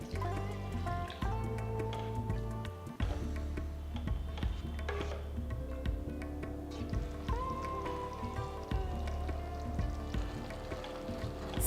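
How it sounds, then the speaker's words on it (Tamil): Milk is poured into a pot of vermicelli payasam that is nearly cooked, giving a close, continuous liquid splashing and bubbling. Metallic clinks and scrapes from the pot sound beneath the pour. "சேமியா முக்கால் வாசி வெந்து வந்ததும் தனியாக எடுத்து வச்ச பாலை ஊற்றுங்க"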